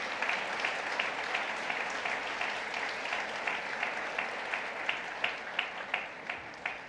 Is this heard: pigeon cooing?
no